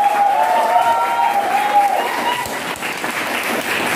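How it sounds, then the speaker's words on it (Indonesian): Classroom applause for a student group after their presentation, a steady wash of many hands clapping together with faint voices mixed in. "Tepuk tangan buat kelompok 2."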